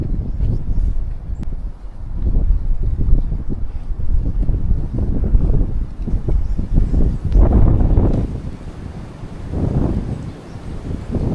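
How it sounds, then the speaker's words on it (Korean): Strong wind gusts buffet the microphone outdoors on a Seoul walking path laid with coconut-fiber matting, a loud, steady roar that swells and eases, with no voices. "오, 바람이 너무 많이 분다."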